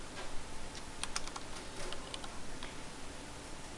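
Fast, light keystrokes on a computer keyboard as a folder name is typed in a VMware vSphere lab. The clicks are quiet and close, in a short irregular run over faint background hiss.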